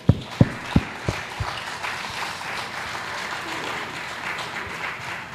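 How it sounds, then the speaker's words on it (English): Press conference audience at the Monster Energy FIM Motocross of Nations breaks into applause, opening with a few sharp, separate claps that merge into steady, moderately distant clapping. "we can make a big applause again to him"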